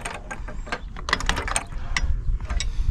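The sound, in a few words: tightening the RV propane regulator hose fitting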